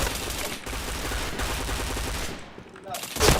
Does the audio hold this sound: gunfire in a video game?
yes